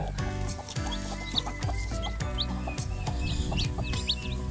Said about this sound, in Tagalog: Ayan po yung ating mga Rhode Island Red. Pero yung naglimlim po ay native.